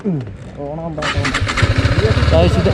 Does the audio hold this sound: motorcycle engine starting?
yes